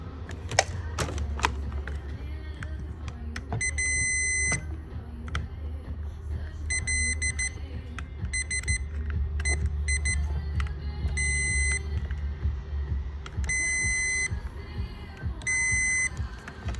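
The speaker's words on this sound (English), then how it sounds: "You're gonna hear this thing beep when I've got continuity." Short electronic beeps from a continuity tester chirp in irregular bursts while diagnosing a 2008 Mercedes C300 bad ground, some single and some in quick clusters, over a low background hum and occasional clicks and rustling.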